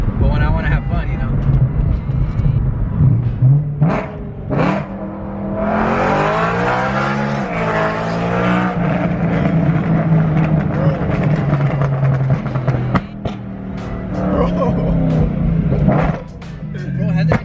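A BMW E92 M3 with a loud aftermarket exhaust revs repeatedly, with sharp throttle blips, a long rising and falling sweep and a crackling drop back to idle, while people talk over it.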